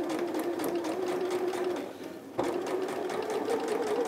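A domestic sewing machine stitches a short back stitch at the top of a pinafore dress, running in a steady close whir that briefly slows and dips in the middle before picking up again.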